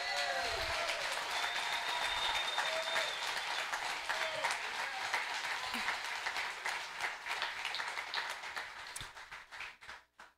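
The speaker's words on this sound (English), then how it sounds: "Can we give them an applause?" A church congregation at a Palm Sunday service applauds a group of children, full steady clapping that gradually thins out into scattered individual claps before fading to silence.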